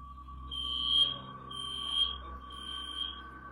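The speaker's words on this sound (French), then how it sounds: "l'alarme incendie se déclenche et les élèves quittent la salle de classe" A classroom fire alarm sounds in three regular electronic beeping pulses about a second apart, fairly faint over a low steady hum.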